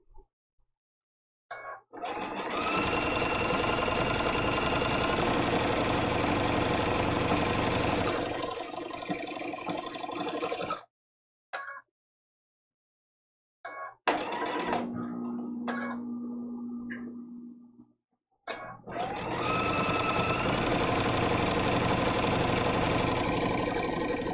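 A sewing machine stitches quilt-as-you-go vintage-style placemats, running in long steady bursts with a few short pauses and stops between seams, close and fairly loud with no voices.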